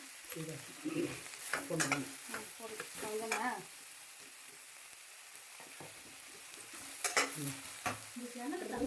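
Cinnamon, fennel, cardamom and cloves sautéing in oil in a pan for paneer butter masala, a soft continuous sizzle with stirring scrapes and clatter, close but moderately quiet, no talk.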